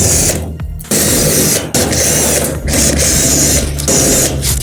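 Power drill unscrewing bolts from the back cover of a Mr Spin spin dryer, loud ratcheting whirs in several bursts separated by brief pauses, close up and with no voices.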